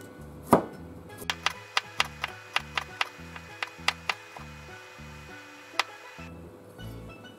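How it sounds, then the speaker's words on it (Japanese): A knife slices peeled garlic on a cutting board in quick, evenly spaced taps, about a dozen close, crisp chops with a louder knock at the start and a soft rustle at the end. "ニンニクも皮をむいて薄切りにします"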